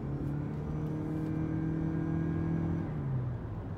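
Lexus UX Hybrid accelerating hard from inside the cabin, a steady loud engine drone with a rising whine that holds for about three seconds, then eases off.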